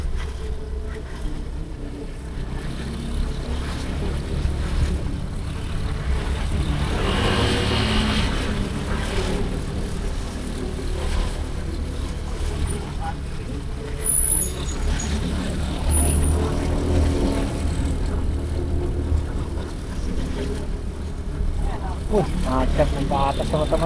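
Congested uphill road toward Puncak, Bogor, jammed with traffic: a continuous low drone of idling and creeping engines with occasional brake hiss and brief high squeals, heard close up under intermittent talk.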